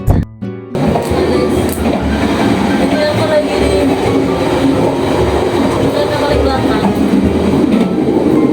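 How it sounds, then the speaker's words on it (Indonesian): Steady, loud rumble and rattle from inside a moving passenger train at night on the way to Jogja, with constant wheel and carriage noise throughout after a brief quieter opening. "Nah ini kita udah di kereta, udah tinggal tidur karena ini kan jam malam ya"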